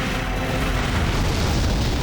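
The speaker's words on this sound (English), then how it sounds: "you can see the walls of Megalith getting destroyed here" The walls of the Megalith being blown apart in Armored Core 4 Answer, a dense, continuous rumbling barrage of explosions that stays loud throughout.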